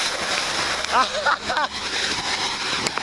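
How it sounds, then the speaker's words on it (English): A city bus on a rainy street throws up a splash of water, a brief wet whoosh over constant traffic and rain noise outdoors. "I just got sprayed by a city bus"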